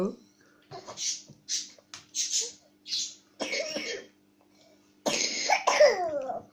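A young child gives several short, breathy coughs in quick bursts, followed by a few vocal sounds, heard close in a quiet room.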